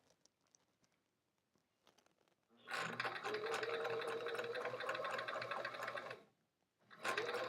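Sewing machine running a long steady burst while stitching the hem of an envelope pillow case, quiet handling before, then a brief pause and the motor starting again.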